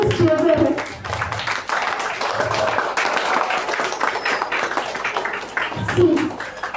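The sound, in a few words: audience applause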